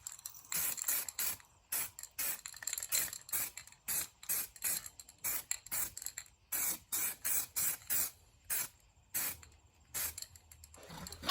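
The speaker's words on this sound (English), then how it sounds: "then I'm gonna shoot it with some primer" Primer sprays onto a car door being converted from coupe to convertible, in repeated short hissing bursts with brief pauses between them, fairly close and steady, with no talking.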